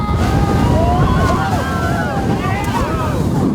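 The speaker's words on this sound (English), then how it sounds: "It is the jet boat ride through the horizontal waterfalls." A jet boat ride through the Horizontal Falls in Western Australia: loud wind buffeting and rushing water, with shrill excited voices and cries over the roar.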